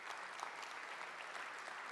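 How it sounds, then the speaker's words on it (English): An audience applauds after a conference talk on building apps for Microsoft Teams, a steady, dense wash of many hands clapping at an even level throughout, with no voices over it. "There's too much applause."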